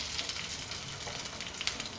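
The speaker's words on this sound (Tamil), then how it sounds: "இந்த வெண்டைக்காயை நல்லா எண்ணெயிலே போட்டு வதக்கணும்." Okra frying in sesame oil in a pan, a faint steady crackling sizzle with small spitting pops throughout and no talking.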